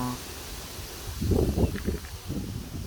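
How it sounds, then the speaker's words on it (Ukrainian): Strong, cold gusty wind rushes through a swaying, creaking birch tree, rustling leaves steadily, with a brief muffled voice partway through. "Тут так береза хитається, рипить. Вітер дує, холодний."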